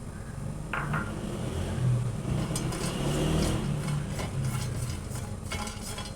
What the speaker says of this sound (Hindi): सबसे पहले मैं ये बादाम ड्राई रोस्ट कर लूँगी